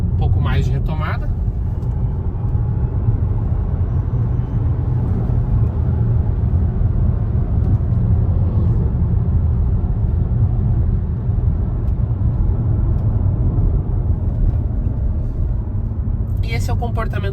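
A JAC e-J7 electric car moving smoothly at low speed: a steady low road rumble with soft tire and cabin noise and no loud engine note.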